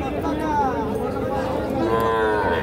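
Young bull calves mooing at a busy rural cattle market, several drawn-out moos close by, with crowd chatter and voices in the background.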